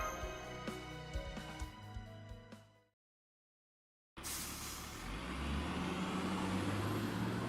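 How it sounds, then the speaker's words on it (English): Video game bus audio in traffic: tonal clanks and rumble cut to a brief silence, then a steady hiss of air brakes and engine noise swells and holds to the end. "I feel like we've been on this bus for way too long."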